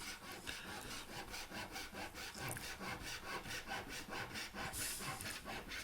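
A hand saw cuts through scrap wood with a quick, even rhythm of rasping push and pull strokes, close up and steady for the whole stretch, with no talking over it.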